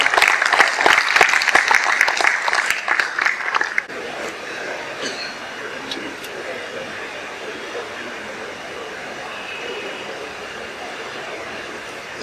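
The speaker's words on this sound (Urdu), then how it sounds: "آپ تالیوں سے ان کا استقبال کریں" Audience applause at a community education excellence awards ceremony in Mumbai, dense clapping for the first four seconds and then fading to a thin, lingering patter over room noise.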